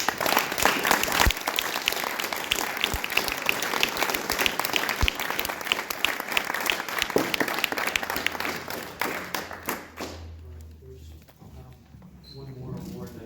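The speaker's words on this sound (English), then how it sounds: "I ask that you give them another round of applause." Audience applause fills an Eagle Scout Court of Honor, steady dense clapping that runs for about ten seconds before thinning out and fading into quieter room sound.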